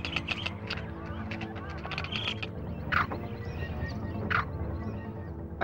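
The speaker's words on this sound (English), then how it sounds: "Teeth chattering warns of snakes." Teeth chattering of an African vervet monkey as a snake warning call, heard amid a dense, noisy bed of animal calls and honk-like cries that continue throughout.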